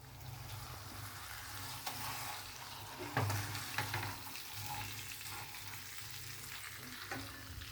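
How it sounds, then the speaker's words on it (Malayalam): Pearl spot fish (karimeen) fries in a pan with curry leaves, a steady broadband sizzle with a brief louder burst around the middle as it is handled, close and continuous, no talk. "തിരിച്ചിട്ടിട്ട് മറ്റേ സൈഡും അതുപോലെ തന്നെ ഫ്രൈ ചെയ്തെടുക്കാം"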